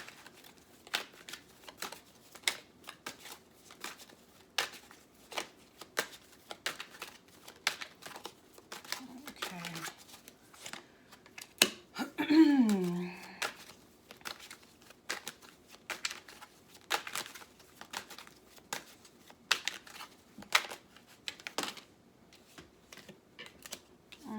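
Tarot cards being shuffled, a long run of rapid papery riffles and flicks near the microphone, with a louder bridge-style flutter around the middle and faint speech in the background.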